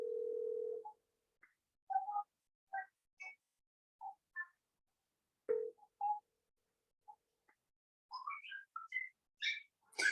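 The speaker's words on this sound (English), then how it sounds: "Phone call." A phone call begins with a steady dial tone that cuts off, followed by a series of separate keypad dialing beeps at varying pitches, then a quicker run of tones near the end, faint and without speech.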